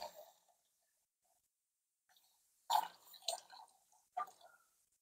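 Water trickles and splashes onto potted plants during afternoon watering in a few faint, close bursts, separated by near silence.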